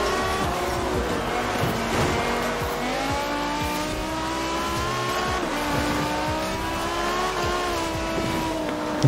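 A BMW drifting in Forza Horizon 4, its engine revving steadily under long, wavering tire squeals, close and continuous without talk.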